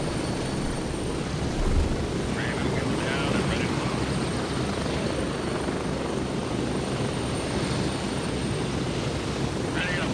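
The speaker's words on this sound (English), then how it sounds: "heli looks really cool" A helicopter in the tactical shooter game Gray Zone Warfare thrums steadily and loudly throughout, a dense continuous rotor and engine roar with faint chirps rising above it at times.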